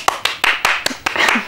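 Applause after a poetry reading in a televised interview: a short burst of close, crisp hand claps, irregular and fairly loud, from a small group.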